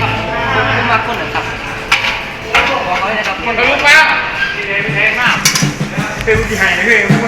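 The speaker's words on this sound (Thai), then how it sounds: "จะเอาเตามาลองสวมดูนะครับว่าจะได้ไหม" A metal stove is set onto a clay jar oven, giving clanking, scraping metal knocks and clinks up close, with someone speaking throughout.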